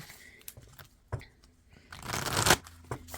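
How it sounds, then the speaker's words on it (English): Large oracle cards are shuffled by hand in several short riffles and taps, ending in one louder, longer shuffle, close up with no talk. "Give it one more shuffle."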